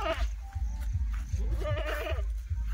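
A pregnant Kathiawari goat bleats close by in a wavering cry midway, amid rustling and shuffling movement noises.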